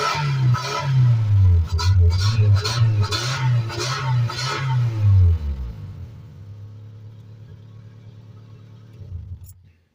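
An old Ford Ranger engine, run on bad gas after years of sitting, with a slight exhaust leak and something burning on the exhaust, rumbles and revs loudly for several seconds, then settles into a quieter, steady idle.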